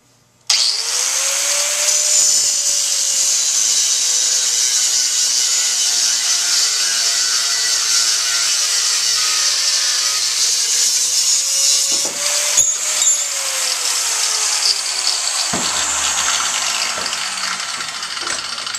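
A 4.5 inch angle grinder with a cutoff wheel cuts half-inch rebar stock with a loud, continuous high-pitched whine. The motor pitch dips and rises as the wheel bites into the steel and keeps going for nearly twenty seconds.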